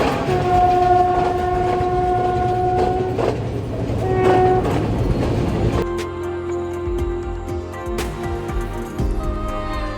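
A passenger train on the Nuwara Eliya to Ella line in Sri Lanka rumbles along loud and close, its horn sounding in long sustained blasts, then a sharp clunk gives way to steady wheel clatter and rattling carriages.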